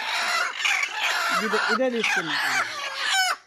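Country hens give loud, close clucks and squawks while being handled, rising in bursts as someone speaks briefly over them.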